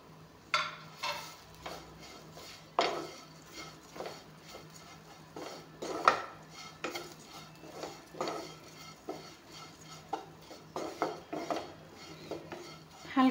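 Oats and green chillies being fried in a pan, mostly heard as a quiet, irregular series of spatula scrapes and metallic clatters over a faint background sizzle.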